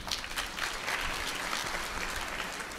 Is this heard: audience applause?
yes